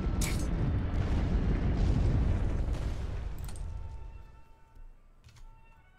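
A bombing run in the KARDS card game sets off a heavy explosion. Its thick, rolling boom holds loud for a few seconds before it thins out into crackling debris and a fading rumble.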